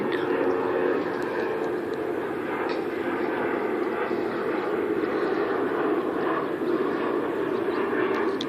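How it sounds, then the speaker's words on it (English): An airplane taking off near an airport makes a steady, broad roar that holds at the same level throughout, moderately distant and without clear talk over it. "It's gonna be a non-stop airplane."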